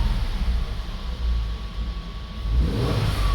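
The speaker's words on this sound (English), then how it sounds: "car is running" A Mercedes M276 engine idles steadily nearby, a low continuous hum with a faint whine, running alone without talk.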